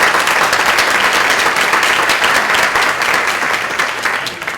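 A crowd at a seniors' talent show in Lexington breaks into loud, dense applause, many hands clapping together in a sustained roar that tapers slightly toward the end, with no voices over it.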